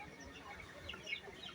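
Chicks at a Vietnamese market, faint high peeping chirps scattered over a low murmur of market background, distant and quiet throughout.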